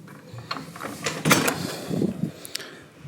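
A door creaks and clatters open with a few mechanical clicks and a latch rattle, close and fairly quiet, with no voices.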